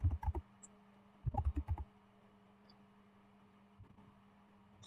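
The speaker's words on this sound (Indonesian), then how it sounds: "Kita ketikkan command su new owner." A command is typed on a computer keyboard in two short bursts of rapid key clicks, close and crisp, followed by a quiet pause with a faint electrical hum.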